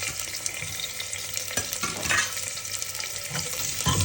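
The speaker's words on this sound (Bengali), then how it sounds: "এই যে তেল দিয়েছি, একটা তেজপাতা, পেঁয়াজ দিচ্ছি এখন" Sliced onion sizzling in hot oil with a bay leaf, a steady close frying hiss throughout with occasional stirring scrapes and no talk.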